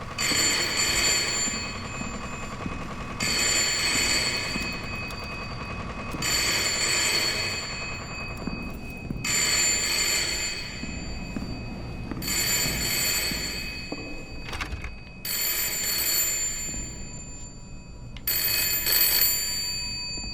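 A telephone ringing in the 2023 horror video game Layers of Fear, a loud electric bell repeating in regular bursts of about two seconds, split by short gaps, heard alone without talk.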